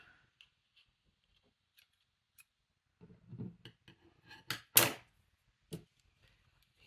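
Small scissors snip paper a few times up close while trimming a junk journal, quick crisp clicks clustered together with short pauses in between, fairly quiet overall.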